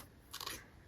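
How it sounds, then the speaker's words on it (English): Scissors snip once through yarn at the end of a crocheted top panel, a single short crisp cut, close and fairly quiet. "and cut your yarn."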